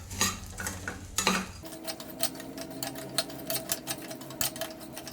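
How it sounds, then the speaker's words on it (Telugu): Poha mixture for atukula chudua is stirred in a pan with a spoon, giving rapid scraping and clinking strokes up close that continue steadily with no talking. "వీటన్నిటిని మళ్ళీ ఒకసారి కలిపేసేస్తాం"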